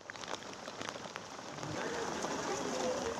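Heavy torrential rain in the Himalayan region of Nepal, a dense steady hiss of downpour striking surfaces that swells louder midway and keeps on without a break.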